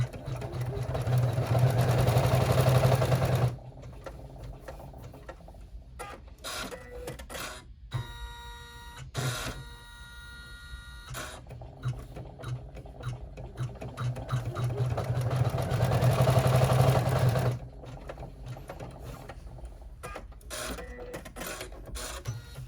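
An embroidery machine stitches the pleat of a reusable snack bag in the hoop. A loud, rapid, rhythmic mechanical chatter runs in two long stretches, with quieter intervals of clicks and whirs between them.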